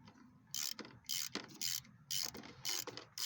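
A wrench ratchets on a 13 mm bolt atop the AC compressor lines of a 1998 Chevrolet Blazer engine, with several short bursts of clicking separated by brief pauses, close and fairly loud.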